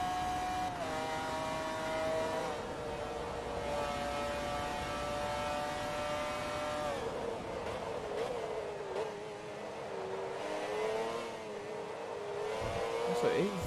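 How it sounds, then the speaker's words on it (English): A race car engine in Forza Motorsport 2 drones and revs continuously, its pitch climbing and dropping through gear changes, with a voice talking over it. "It's such a phenomenal engine."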